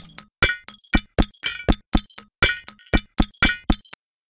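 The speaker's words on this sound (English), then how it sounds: "I used two separate instances of the bottle pop for the percussive sound." Two layered instances of the Reflekt Audio Bottle Pop plugin play percussive glass pops together, a dense run of bright clinks and hollow knocks in a brisk syncopated pattern, close and dry, then silence.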